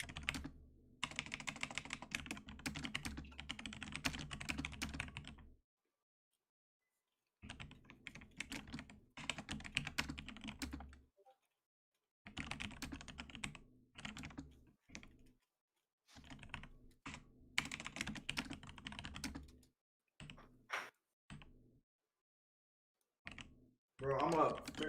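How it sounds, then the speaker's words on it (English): Rapid typing on a computer keyboard in dense bursts of clicks, with gaps of silence between runs and a voice talking over parts of it. "Who's killing my keyboard?"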